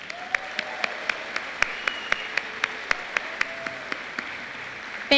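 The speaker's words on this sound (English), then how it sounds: "Let's give our winners another round of applause." A college convocation audience applauds its winners with a thin, steady patter of claps in an even rhythm, moderately distant and fairly quiet, with no talk over it.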